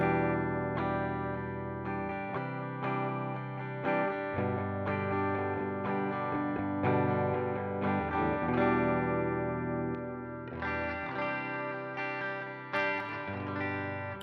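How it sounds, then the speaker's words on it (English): Clean, bright electric guitar chords through an Amplitube model of an old Fender amp ring out with a shimmering, chimey sustain, strummed steadily with a slight chorus-like shimmer throughout. "anytime you have a chimey, bright, clear sound, reach for an old Fender amp"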